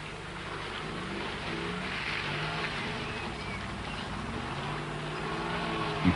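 A 1980s Land Rover wades through water in a driver training run, pushing a bow wave. Its engine drones steadily over a constant wash of churning water, with no one speaking.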